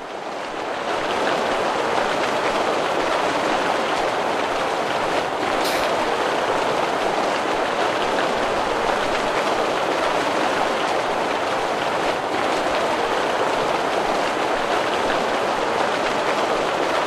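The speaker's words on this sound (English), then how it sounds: "Rain sound is a bit annoying though." Steady, dense hiss of heavy rain ambience in the video game Abyssal fills the clip at an even loudness from start to finish, with no talking.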